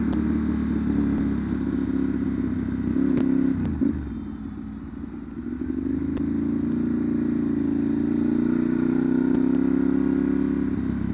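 A Ducati Monster 796 fitted with an SC Project CR-T exhaust rumbles steadily while being ridden, its engine note dipping briefly and then climbing again, close and continuous with no speech.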